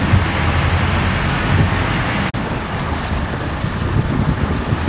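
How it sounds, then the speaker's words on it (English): A strong wind out on the southern end of Southampton Water roars continuously into the microphone from a boat, loud and buffeting, with water noise beneath and one brief dropout midway. "We've got all this wind out here on the southern end of Southampton Water"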